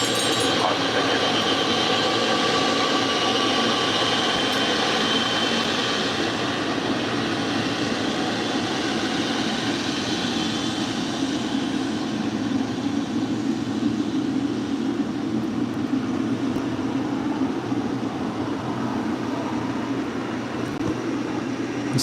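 A Boeing 777 airliner on Coletta Air Flight 232 from Cincinnati lands at LAX, a loud broad engine roar that swells and then slowly fades as it passes, steady and continuous with no talk.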